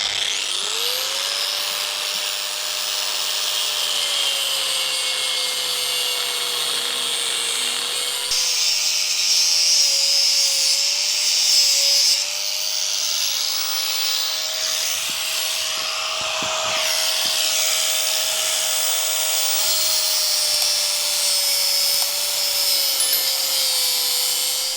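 A power tool with an abrasive cutting wheel grinds through a part on a boat, giving a continuous high, loud whine that dips and rises slightly as the blade bites into the material.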